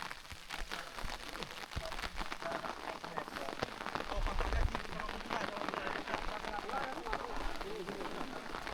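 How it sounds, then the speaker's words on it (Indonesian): Steady rain falls at a campsite during a climb of Mount Leuser, a dense continuous patter on surfaces close by, with a few louder drops and a faint low rumble partway through. "Hujan."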